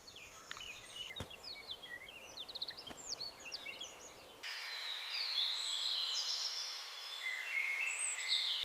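Birds chirp and twitter in quick high bursts, first with scattered clicks, then a dense, steady chorus of bright calls; no talking.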